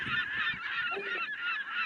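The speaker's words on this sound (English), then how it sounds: "Oh, look, seagull!" A seagull calls repeatedly nearby in Italy, harsh squawking cries in quick succession, loud and clear with little else around.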